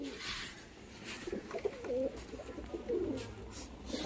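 Kagji white pigeons coo softly in a loft, low rolling murmurs repeating in short phrases, faint and close against a quiet room.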